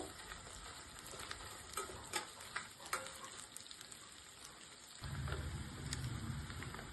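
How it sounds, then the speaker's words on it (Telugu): Raw prawns frying in hot oil in a pan, a steady low sizzle and crackle that swells louder and denser toward the end, with no talking. "కొంచెం ఎర్రడాలుగా వచ్చిందాక కొద్దిగా ఫ్రై చేసుకోవాలండి ఆయిల్లో"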